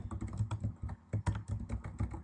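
Keys clatter on a computer keyboard in quick, uneven bursts of close taps, with brief pauses between runs of words during spreadsheet data entry.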